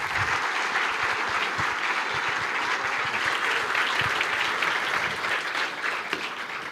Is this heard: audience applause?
yes